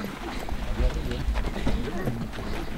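Horse hooves clip-clop along a trail near Quilotoa lagoon in Ecuador, a soft rhythmic clopping heard beneath steady outdoor noise and people talking.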